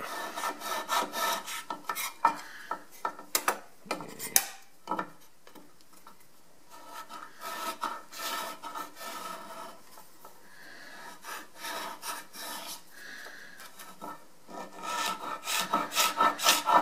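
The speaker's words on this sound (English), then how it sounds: "Gotta try and get the scraper in here right." A hand scraper rasps against wood while repairing a piece in a woodshop, in bursts of rough rubbing strokes with short pauses between, fairly close and steady.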